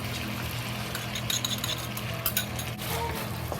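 Pork strips stir-fried in a wok for sweet bean paste shredded pork, giving a steady close sizzle with scattered metallic clinks and scraping of the utensil against the pan, with no talking.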